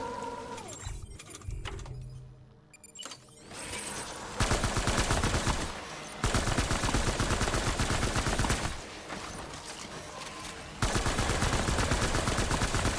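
Heavy gunfire in Death Stranding: Director's Cut, long loud bursts of rapid automatic shots broken by brief pauses, after a quieter opening with a few scattered shots.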